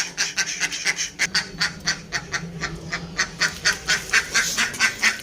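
Ducks quack repeatedly in a fast, continuous chatter, several birds calling close by with no talking.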